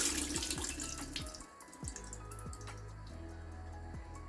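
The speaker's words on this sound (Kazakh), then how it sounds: "Суын төгіп аламыз." Water poured off glass jars of cucumbers being pickled in tomato juice, heard as a close, steady trickle and splash broken by irregular drips, with no voices.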